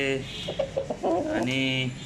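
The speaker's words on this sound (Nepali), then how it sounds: "भालेले बोल्दैछ हैन" A pet rooster clucks up close in a short run of bright, throaty calls, with a brief word of speech alongside.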